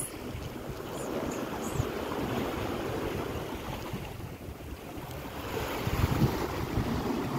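Sea waves washing onto the Gulf of Oman shore at Chabahar, a steady rolling surf with wind buffeting the microphone, close and continuous with no talking.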